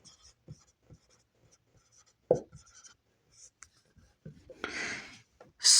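Pen or chalk writing on a surface during a political science lesson: short scratchy strokes with pauses, a louder tap, then longer rubbing strokes near the end, close and clear with no talking.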